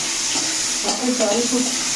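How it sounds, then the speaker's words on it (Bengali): Loud, constant sizzle of prawns frying in a pan, with a few soft tonal clatters from the kitchen partway through. "চিংড়ি মাছগুলো ভাজা হচ্ছে এখন"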